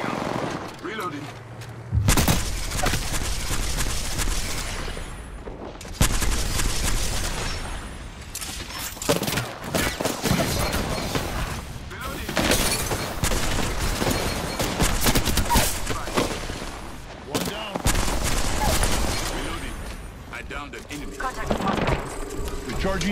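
Gunfire in the battle game Apex Legends comes in dense, loud bursts of rapid automatic shots with booms in between, nearly continuous across the stretch, while in-game voice lines speak over the shooting.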